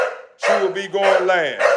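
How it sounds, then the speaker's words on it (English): American bully dog giving loud, drawn-out vocal barks close by, in a few strained, tonal bursts with short gaps between them. "So she just barking."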